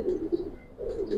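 A pigeon, a Giribaz pigeon at a loft, gives two soft, close, rolling coos, each a low throaty murmur with a short pause between them.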